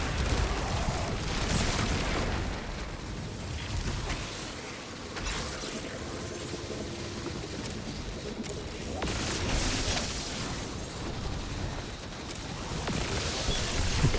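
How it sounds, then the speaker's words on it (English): A grenade goes off in the video game Destiny, with booming bursts and crackling blasts among steady background game noise, two louder surges standing out over the course of the clip. "Grenade."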